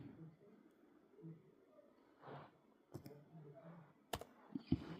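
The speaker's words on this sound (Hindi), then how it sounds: "अकाउंट पे क्लिक कर रहा हूँ मैं" Mouse clicks on a computer while logging into an account in an Android unlock tool, a few sharp isolated clicks scattered under quiet, low-level talk.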